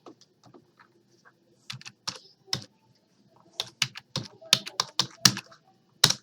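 Keys clatter on a computer keyboard in irregular clusters of sharp clicks, close and fairly quiet, with pauses between bursts and no talk.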